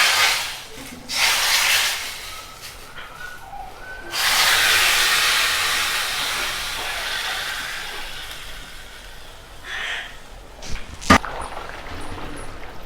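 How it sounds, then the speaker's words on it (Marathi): Hot tadka tempering poured onto simmering potato curry, a sharp loud sizzle bursting in, fading into a long steady hiss, then a second burst and a few clinks of a utensil. "आपण आता याला तडका टाकूया."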